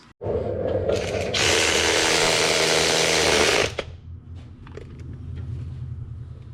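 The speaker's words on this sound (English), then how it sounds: "Old school using a primitive ratchet." An old, primitive hand ratchet clicks rapidly in a sustained burst for a few seconds while working on a retired police car, then stops, leaving quieter mechanical background.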